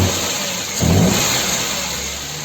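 Car engine running with a newly fitted water pump, a steady mid-pitched hum with a brief louder swell as it revs slightly, heard close and alone.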